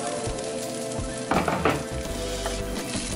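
Garlic and orange peels sizzle in a pan for a chicken dish, a steady close frying hiss with a couple of louder bursts as the pieces are stirred and a utensil scrapes the pan.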